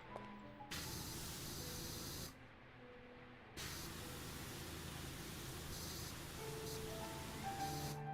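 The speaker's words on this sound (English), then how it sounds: "I've had the water sound off for you here." Pressure-washer spray in the video game PowerWash Simulator 2 hisses as broad white noise in long bursts, stopping briefly, then resuming with a softer lull in between.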